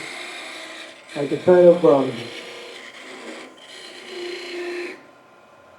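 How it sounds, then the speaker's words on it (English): A negative rake scraper cuts end grain wood while turning an end grain box, giving a short burst of rough, rasping scraping in the middle of the clip. Someone talks before and after it. "I get kind of a negative rake scraper here"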